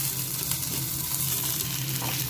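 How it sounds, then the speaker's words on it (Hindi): Ginger garlic paste roasts with onions in a hot pan, a continuous close sizzle and fry with occasional stirring movement throughout. "थोड़ा सा इसे अच्छे से रोस्ट करेंगे प्याज के साथ"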